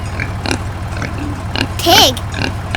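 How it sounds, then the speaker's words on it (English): A farm pig grunts once, a loud rising-and-falling squeal over a steady low hum, with other faint sounds around it. "Pig."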